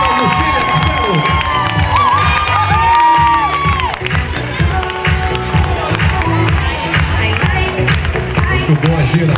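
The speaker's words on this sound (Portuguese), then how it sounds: "Mais aplausos, por favor, para a Gina Lucília Barcelos." A crowd at a charity fashion and dance show claps, cheers and whoops loudly as a model is welcomed, a dense, continuous roar with shouts and some voices mixed in.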